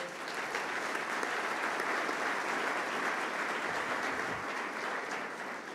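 A large audience at a pastors' mentoring event applauds loudly and continuously, dense even clapping with no pauses throughout.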